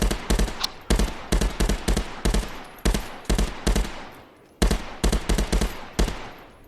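Full-auto gunfire at a firing range in a VR shooting game: repeated short bursts of rapid, loud shots with brief pauses between them, close and with no talking.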